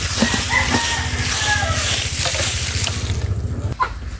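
Farm chickens cluck and a rooster crows nearby, the calls scattered over a steady low hum and splashing water, fairly close and moderately loud.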